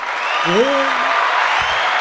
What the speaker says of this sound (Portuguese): Tem 1000 palmas aqui.